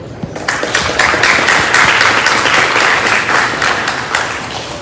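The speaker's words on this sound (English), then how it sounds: "Let's give another round of applause to the prof." An audience at a mental health summit applauds after a professor's keynote, with loud, dense clapping from many hands that builds quickly and holds steady for several seconds.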